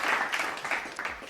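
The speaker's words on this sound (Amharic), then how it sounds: "እባካችሁ ለአንበሳ ባንክ ሞቅ ያለ ጭብጨባ ያስፈልጋል" A crowd at an Adwa commemoration event gives a brief burst of warm applause for Lion Bank, clapping dense and fairly close.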